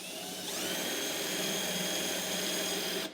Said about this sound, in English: start with a small drill bit and get your pilot hole going